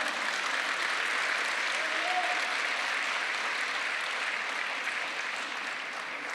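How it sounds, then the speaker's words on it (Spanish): A congregation applauds during a church service, a broad steady wash of many hands clapping that holds evenly for several seconds and fades slightly at the end, with no voice over it. "¿Le damos un aplauso al Señor?"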